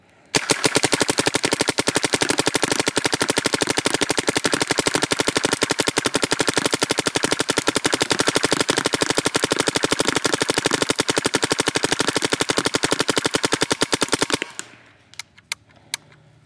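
A BT TM-15 paintball marker fires in its rapid-fire function 3, a loud, close, machine-gun-like stream of sharp pops that runs unbroken for about fourteen seconds. A few scattered shots follow as it stops.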